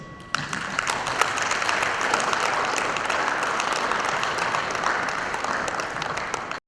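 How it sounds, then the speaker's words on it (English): Sustained applause from a conference audience at a directors' event fills the whole stretch, a dense even wash of clapping at steady loudness with no talk over it. "Another round of applause."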